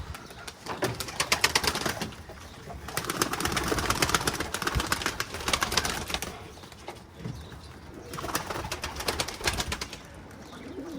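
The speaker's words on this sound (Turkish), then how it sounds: "Şimdi kuşları açmam lazım." Pigeons are let out to fly in rainy weather, with bursts of wing flapping and soft cooing that swell and fade in waves, fairly close and moderately loud.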